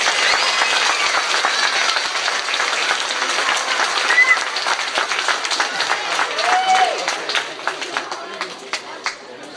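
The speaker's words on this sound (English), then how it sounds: "Everybody give her a round of applause." Crowd applause after an introduction at a gathering with someone, a burst of clapping that gradually thins into scattered claps, with some voices and whoops mixed in.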